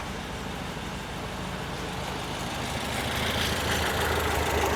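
A 1968 VW Type 3 with an 1835cc air-cooled engine idles steadily, a close, continuous low rumble with a slight rise in level toward the end and no talk over it.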